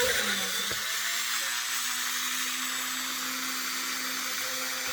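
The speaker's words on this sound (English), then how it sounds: "using that Dremel tool is really easy to use" A Dremel rotary tool drills pilot holes in a high-pitched, steady whine after a brief handling knock at the start. It is close and continuous, with no speech.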